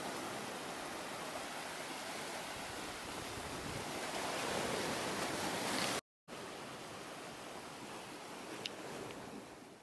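Waves at the seashore wash in a steady, fairly faint broadband hiss that swells slightly midway, breaks off for a moment, then resumes alone with no voices.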